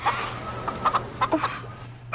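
Chickens cluck in a short burst of sharp, scattered calls in a Filipino radio drama, fairly close over a steady low hum, with no voices.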